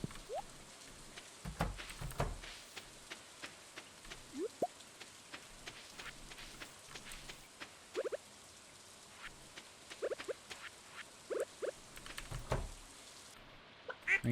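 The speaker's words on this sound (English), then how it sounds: "Rainy day, everybody stayed inside." Light rain in a cozy farming video game patters faintly with scattered soft drips and taps over a quiet background, without anyone speaking.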